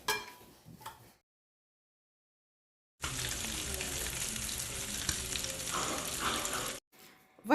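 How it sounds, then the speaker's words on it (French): Tuna steaks sizzle and fry in a hot pan, a steady, loud crackling hiss that starts abruptly after a brief silence, runs for about four seconds, then cuts off. "Donc là, on va mettre les steaks de thon. Voilà, comme ça. Vous allez laisser griller."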